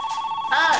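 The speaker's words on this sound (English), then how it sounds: "answer the phone!" An old-style telephone bell rings with a steady electric trill, then a brighter rising tone cuts in halfway through, loud and close within a boxing film scene.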